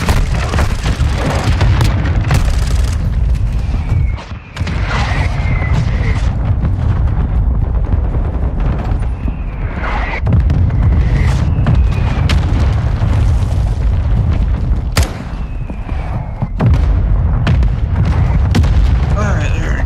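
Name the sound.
mortar strike explosions in Modern Warfare II video game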